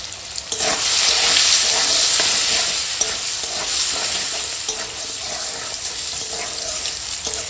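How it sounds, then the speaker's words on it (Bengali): Green mango pieces fry in oil with dried chilli, mustard seed, turmeric and salt for a sour dal, producing a loud, close, continuous sizzle broken by scraping stirs against the pan, with no talking. "আমটা এখন ভাজা হয়ে গেছে ফোরনের সঙ্গে"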